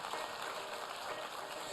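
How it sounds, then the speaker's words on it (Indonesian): A church congregation claps together in a steady, even wash of applause, at moderate distance and unbroken throughout. "Boleh saya dengar tepuk tangan yang paling meriah dari tempat ini?"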